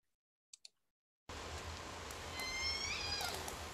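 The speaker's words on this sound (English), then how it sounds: "there was actually a family of orca trying to communicate with each other through all that boat noise" Underwater recording of a family of orcas calling off British Columbia with boat noise removed: a few faint clicks, then a background hiss carrying rising and falling whistle-like calls in short overlapping sweeps.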